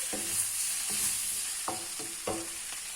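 Broccoli and spring onion stir-frying in a pan for beef and broccoli, a soft constant sizzle with a few muffled stirring scrapes at intervals, close but fairly quiet.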